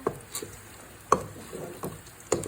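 Popcorn being stirred in a pot, with scraping strokes and a few sharp clacks against the metal at irregular intervals over a soft continuous hiss, close and moderately loud, no talking.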